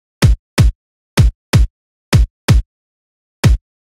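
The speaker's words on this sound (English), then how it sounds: "I also introduced the tom, which sounds like this" A bass house tom drum sample is struck seven times in an uneven pattern. Each hit is a punchy, clean thump with a quick pitch drop, played alone against silence.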